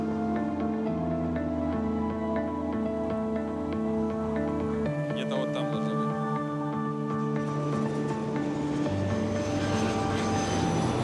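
Propeller airplane on approach to land on ice in extreme cold, its engines droning loud and steady with shifting tonal pitch changes over nearly eleven seconds, heard from inside the cabin.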